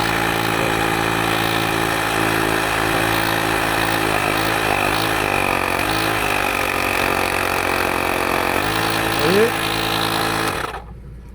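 A small portable air compressor tyre inflator bought from AliExpress runs steadily and loudly with a buzzing motor drone for about ten seconds, its pitch shifting slightly before it cuts off abruptly near the end.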